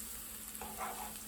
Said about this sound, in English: I'm cooking up the green onions and the garlic first just to give off a nice scent